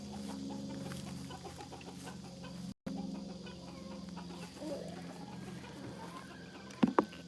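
Chickens clucking nearby in a Georgia yard, soft continuous low clucks over a steady hum, with a brief gap partway and a couple of sharper bursts near the end.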